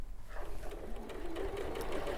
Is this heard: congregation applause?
no